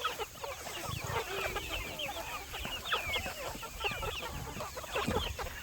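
Chickens of many rare breeds cluck and chatter on a homestead, a dense, continuous flock of close calls with occasional sharper squawks and a faint rooster-like note, fairly loud throughout.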